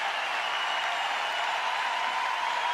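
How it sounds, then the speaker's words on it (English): Applause from a performance playing back on a video, faint and distant, a steady wash of clapping with no distinct individual claps. "we've got 22 seconds of people clapping"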